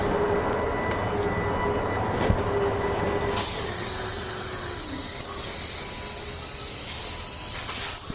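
Garden hose spray rinses cleaner off heavily neglected car wheels, a steady close-up hiss of water throughout, growing brighter and harsher partway through as the stream strikes the inner barrel.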